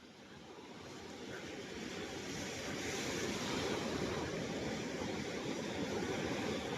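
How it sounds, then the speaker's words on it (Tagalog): Steady rushing of rough river water with strong waves, swelling gradually louder and then holding, with a windy hiss and no voices. "Medyo malakas-lakas lang alon dito."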